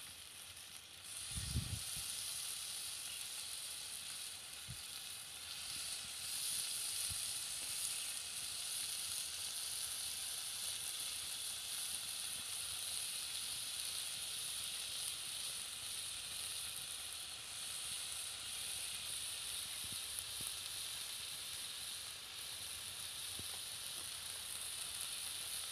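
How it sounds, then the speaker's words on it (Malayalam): Murrel fish pieces laid on a hot oiled iron dosa pan give off a faint, continuous hiss and sizzle, with a soft knock near the start and no talking. "ഇനി നമുക്ക് മീൻ ഓരോന്നായിട്ട് കല്ലിലോട്ട് വെച്ചുകൊടുക്കാം."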